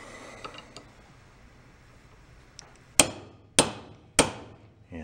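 Hammer striking a part from a snow blower's electric starter clamped in a vise, a few light taps followed by three sharp, loud metallic blows spaced about half a second apart.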